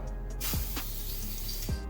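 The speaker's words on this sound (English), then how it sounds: "So I thought hanging them up and spray painting them would be a good idea." Aerosol spray paint hissing onto parts hung up for painting during a Subaru WRX radiator swap, a continuous close breathy spray with brief sweeping surges across under two seconds.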